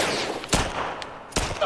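Gunfire in The Last of Us crackles in several sharp, loud bursts spaced over a steady noisy background, with no talking.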